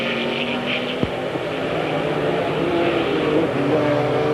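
Trans-Am race cars, an Oldsmobile and a carbureted Beretta V6, battle for the lead at Road America, a steady loud engine drone with shifting whine, no voices heard.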